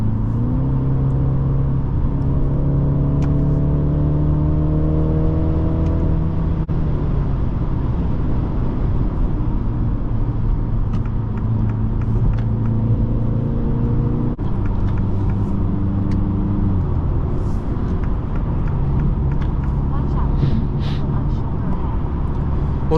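A 2023 MINI Cooper Countryman S cruising at highway speed, giving a steady low engine drone with road and tire rumble and shifting engine tones, while someone talks over it.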